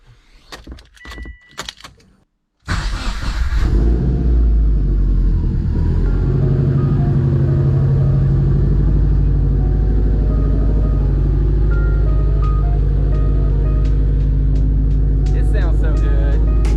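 Keys jingle briefly before a car engine starts and a vehicle is driven slowly into position, a loud steady low rumble close by, with someone talking over it.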